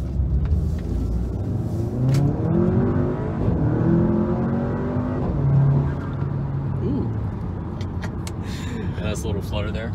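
An Audi with an APR Stage 2 tune accelerates hard, its engine rising loud and close inside the cabin. Short turbo flutter bursts come near the end, and people talk over the engine throughout.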